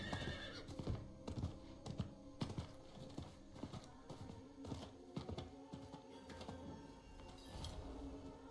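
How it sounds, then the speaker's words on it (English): Horse in a video game, a whinny over steady clip-clop hoofbeats and game sounds, moderately close with busy background activity. "I have a horse, welcome back."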